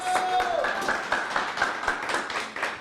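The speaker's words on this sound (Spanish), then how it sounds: "El aplauso para David Humeda" Crisp, rhythmic clapping close by, with a tone fading out at the start and other sounds mixed underneath.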